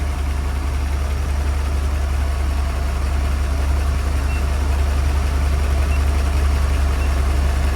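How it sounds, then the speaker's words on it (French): A Mercedes engine idles steadily on an older pre-OBD2 car, a constant low rumble held at even loudness throughout with no voices. "la voiture ne bronche pas, continue à marcher"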